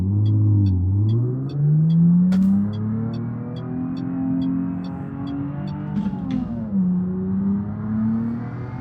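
A car engine in BeamNG Drive revs up through gear changes with a manual clutch, a loud close droning tone climbing in pitch, dipping at each shift and rising again, with faint ticking above.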